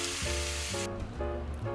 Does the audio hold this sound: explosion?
no